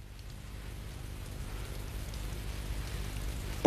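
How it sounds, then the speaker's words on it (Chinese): Steady heavy rain pours down in a continuous, even hiss that swells slightly louder toward the end, with no talk over it. "大雨天的，"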